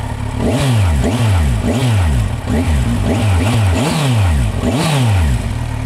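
A 2016 Kawasaki Z1000SX with a catalytic converter revs hard and close in repeated throttle blips, each one rising and falling in a steady rhythm with no voices over it.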